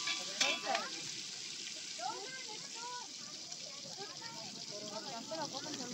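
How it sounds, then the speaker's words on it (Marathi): Moong dal tadka sizzles and crackles in a pan at an outdoor group meal, a constant frying hiss under faint background voices and sounds. "आता डाळ तडका चालू आहे आणि मूग डाळ आहे"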